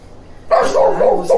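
A dog lets out a few close, yelping barks in quick succession, loud and near.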